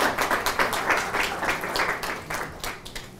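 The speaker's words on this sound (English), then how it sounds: "You got a round of applause there." A round of applause from a room full of people, dense and steady clapping that fades slightly toward the end.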